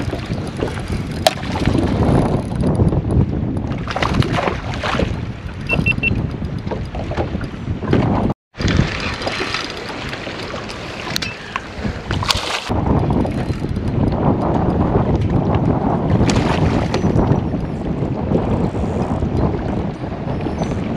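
Strong wind buffeting the microphone on a boat during night bass fishing, a loud continuous roar with gusty thumps and brief dropouts, sustained throughout.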